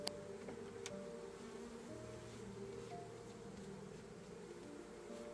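Honeybees buzz steadily around hive frames during a backyard honey extraction, a continuous droning hum with overlapping wingbeat tones drifting up and down, close by and without voices.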